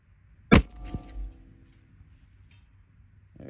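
A single sharp rifle report cracks out, then a faint metallic ring follows from a steel target plate struck downrange, fading into quiet before a soft rustle at the end.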